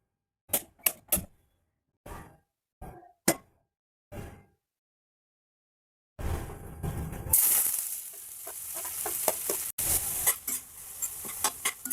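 Ingredients for a Mughlai chicken paste fry in two spoons of oil until golden brown. A few sharp taps and clinks come first, then a steady close sizzle with scraping stirs.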